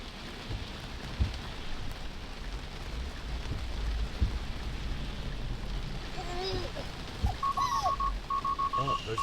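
Heavy rain pounds a moving Tesla during a flash flood, a dense continuous hiss with occasional thumps, joined near the end by a rapid series of electronic beeps from the car.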